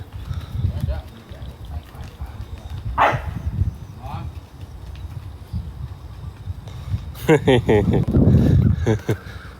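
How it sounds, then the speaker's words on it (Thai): Dog barking at a rural garden home, a few short barks in the middle and a louder burst near the end, mixed with nearby talking and some horse sounds. "หมามันชอบเห่า"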